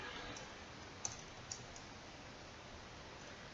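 Soft, scattered clicks on a computer keyboard while Python code is typed, two sharper isolated taps standing out over a faint steady hiss, quiet and close, with no voice.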